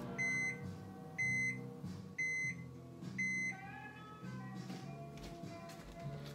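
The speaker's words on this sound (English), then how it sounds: "We've got our eggs in our mug, and the mug is going in the microwave." A microwave oven heating eggs in a mug hums steadily while giving four evenly spaced, close, loud beeps, followed by fainter electronic chirps over the running hum.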